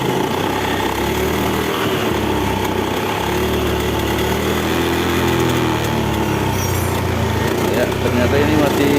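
A Honda Beat scooter with a sputtering fault runs steadily after its throttle position sensor is adjusted, a close, loud, continuous engine drone while someone speaks over it.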